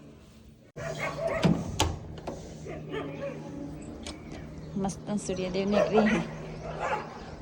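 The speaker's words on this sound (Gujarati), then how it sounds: "વહેલા વહેલા કૂતરો બાજી રહી." A dog barks and yips repeatedly in short bursts, fairly close, while people talk over it.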